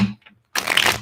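Tarot cards being shuffled by hand, a brief close riffle of flapping and rustling after a short soft handling sound.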